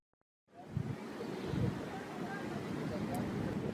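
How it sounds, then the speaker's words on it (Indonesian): Strong wind in Tacna, Peru, a steady loud roaring gust blasting across the microphone after a moment of silence, continuing unbroken to the end. "Angin kencang melanda wilayah Tacna, Peru, merusak puluhan rumah dan sejumlah infrastruktur."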